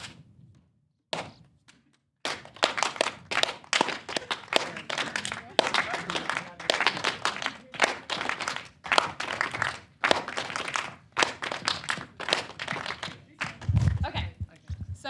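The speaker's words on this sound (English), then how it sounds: "every time I clap, I want you to be clapping 3 times" An audience at a festival talk claps along in a steady rhythm, a long run of sharp, evenly spaced hand claps close by, briefly preceded by quiet talk.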